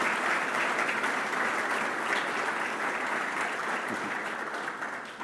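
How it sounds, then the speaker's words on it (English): An audience claps in a room at a building-industry summit's opening plenary, a dense, even wash of applause that holds steady throughout and thins slightly at the end. "Big applause here in the room."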